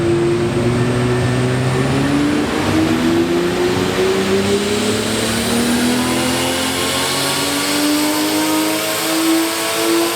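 A 450-horsepower car engine revs hard at full throttle, loud and close, with rising harmonic tones climbing steadily through a sustained roar and no speech over it.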